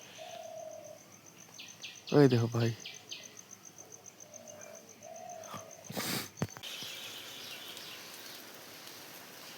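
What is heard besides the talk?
birds chirping on a quiet morning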